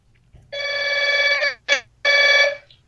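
A telephone rings in a podcast studio in three bursts, two long trilling rings split by a short chirp, close and fairly loud over a quiet background.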